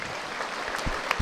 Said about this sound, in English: So we'll just pause for a minute's applause now.